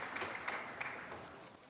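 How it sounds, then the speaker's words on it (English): Applause from an audience at a TechChill 2026 reverse-pitching startup event, a short burst of clapping that fades out fairly quietly over under two seconds. "Round of applause."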